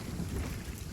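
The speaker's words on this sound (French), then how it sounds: "des coups d'orage ici sur la plage" A thunderstorm rolls over a beach in the video game Sea of Thieves, a continuous low rumble of thunder mixed with wind and rain, dense and unbroken with no speech.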